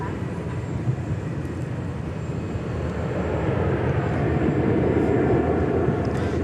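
An airplane at DFW Airport rumbles as a broad, steady roar that swells gradually louder over the seconds, heard from some distance outdoors.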